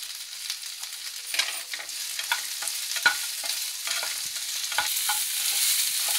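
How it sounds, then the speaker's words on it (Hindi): Okra and halved green chillies sauté in a hot pan, giving a continuous close frying sizzle broken by repeated scrapes and taps from stirring, with no voices. "भिंडी को हम सौटे कर रहे हैं"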